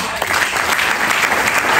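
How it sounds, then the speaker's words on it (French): Audience applause at a celebration of the INF Clairefontaine football academy, a dense, steady wash of many hands clapping close and loud for the full short stretch, with no break. "On peut l'applaudir"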